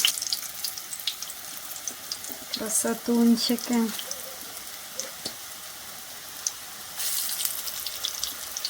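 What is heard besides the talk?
potato zrazy frying in a pan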